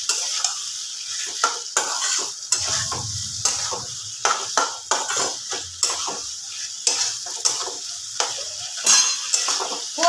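Potatoes stirred into sizzling mutton keema curry in a pan, with a steady frying hiss and repeated scraping and clinking of a spatula against the pot.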